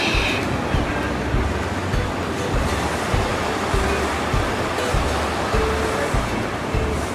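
Surf rolls in at a Hawaiian beach, a continuous roar of breaking waves with wind buffeting the microphone, fairly loud and unbroken.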